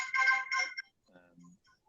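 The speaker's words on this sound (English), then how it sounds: "my phone's telling me that I have a meeting" A mobile phone sounds a meeting reminder alert: a short, bright ringtone burst followed by a softer, lower chime, close to the microphone and alone.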